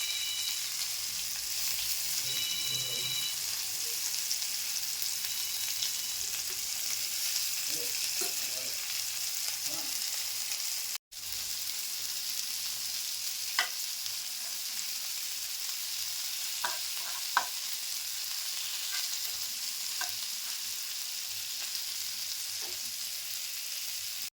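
Coated fish sizzles steadily in hot oil in a pan across the whole stretch, with a few light clinks and one brief sharp knock partway through.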